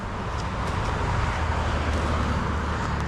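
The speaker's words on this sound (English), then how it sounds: "and the traffic noise I apologize for" Steady highway traffic hums and swishes beside a roadside rock cut near Jim Thorpe, a dense continuous wash of passing vehicles with no talk over it.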